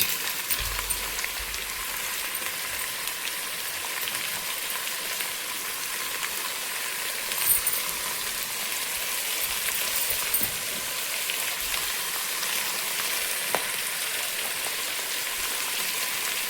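An onion, green chili and drumstick curry with salt, turmeric and chili powder sizzles in a pan, a constant hissing crackle like rain, with occasional faint stirring knocks and no talk.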